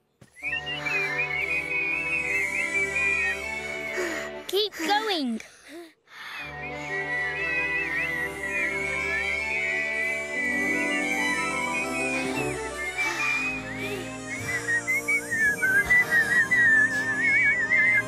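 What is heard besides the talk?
whistling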